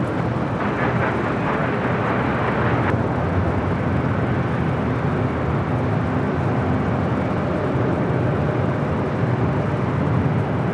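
A China Airlines airliner in special livery on a four-mile final into LAX on the north side sends a loud, continuous broadband jet roar that holds steady, with no one speaking.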